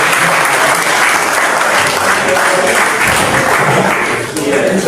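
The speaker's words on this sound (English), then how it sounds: "Could you give a round of applause for" Loud, dense applause from a crowd at a Ministry of Health World Pharmacist Day commemoration, continuous and close, with voices mixed into the clapping.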